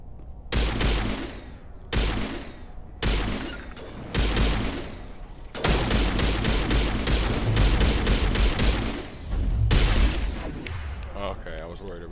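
Dense, sustained gunfire and blasts from a firefight in Mass Effect Legendary Edition, loud and continuous in long bursts with brief gaps, while a voice talks over the shooting.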